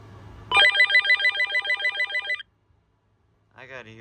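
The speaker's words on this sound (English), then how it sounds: "listen to that clatter ringtone" A RadioShack 43-1704 two-line cordless phone rings with a loud, rapid clattering electronic ringtone, one burst of about two seconds followed by silence, then a voice speaks briefly.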